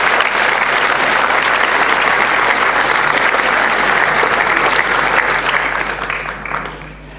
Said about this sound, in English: let's give him a big round of applause to encourage him to come on up here.